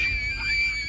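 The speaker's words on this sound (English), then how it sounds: "A sudden loud scream sends the girls running in terror." A single loud, high-pitched scream holds steady for about a second, close and harsh over a rough low rumble, with no talking.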